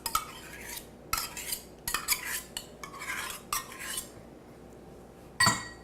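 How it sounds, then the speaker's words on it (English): A spoon stirs creamed corn and sour cream in a bowl, making repeated scraping and clinking strokes against the dish in an uneven rhythm, close and fairly clear, with no talking. "Now, I'm going to just stir that around."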